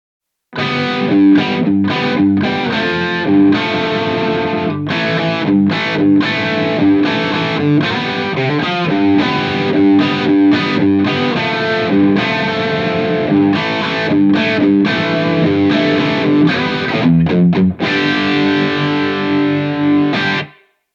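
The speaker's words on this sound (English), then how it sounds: "On this particular preset, there's some 70s chorus, some detune, and some room reverb." An electric guitar plays through a Mooer GE300 on a JCM800-style preset with 70s chorus, detune and room reverb, giving a continuous run of distorted, chorused notes and chords with no talking.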